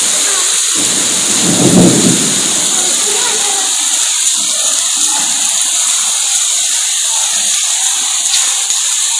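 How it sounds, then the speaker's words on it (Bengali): A heavy thunderstorm with a loud, low thunder rumble early on, then a dense, constant hiss of hard rain, heard from the ground-floor veranda of an office building. "দেখুন বন্ধুরা কি জোরে বৃষ্টি হচ্ছে"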